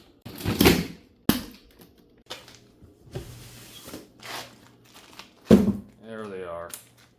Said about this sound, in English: let's go ahead and cut this box open and take a look at these things